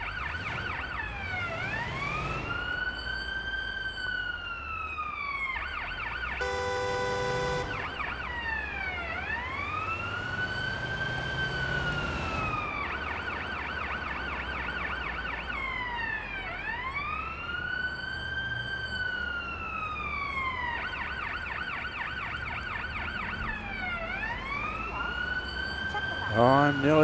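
A wailing ambulance siren in the paramedic game Ambulance Life, sweeping up and down in repeated cycles, loud and continuous, broken once by a short burst of a different yelping tone.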